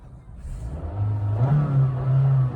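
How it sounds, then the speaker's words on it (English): A Honda Elevate's engine revs up from idle in neutral, its pitch climbing and then holding at a steady high drone around 4000 RPM against a soft limiter, close and loud. "if we just put it in neutral and see how much it revs"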